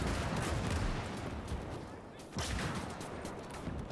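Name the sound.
flak gunfire in Gates of Hell video game battle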